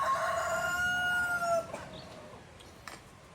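A rooster crows once, a long drawn-out call with a rising start and a fading tail, fairly close, followed by quiet background noise.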